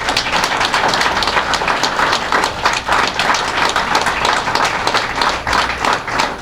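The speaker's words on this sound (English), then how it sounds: "Would you please give a round of applause for the people of the People's Forum?" An audience at a reception at The People's Forum applauds for the organizers, dense continuous clapping from a roomful of people holding steady throughout.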